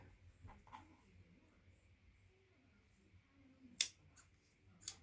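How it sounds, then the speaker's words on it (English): Two quick, sharp snips of scissors in an otherwise quiet room, spaced about a second apart near the end. "Find my good scissors."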